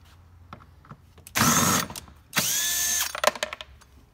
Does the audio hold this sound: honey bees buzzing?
no